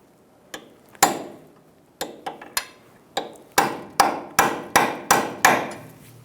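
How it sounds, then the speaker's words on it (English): Sharp metal hammer blows drive a punch to stake a front CV axle nut on a 2010-2014 Subaru Outback: a couple of isolated strikes, then a steady run of about eight evenly spaced ringing hits, close and loud. "Using a punch, we're going to stake the axle nut into the slot."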